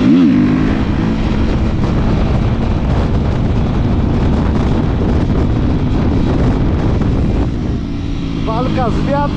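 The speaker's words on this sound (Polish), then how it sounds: "No, trochę wieje tutaj." Strong wind buffets the microphone outdoors beside a motocross bike, a loud, continuous low rumble and roar, with a voice briefly audible near the end.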